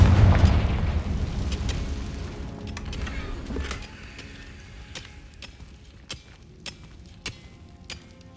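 In Hogwarts Legacy, a Confringo spell bursts with a deep, booming explosion at the start that rumbles and fades over a few seconds, followed by scattered crackling pops and debris ticks.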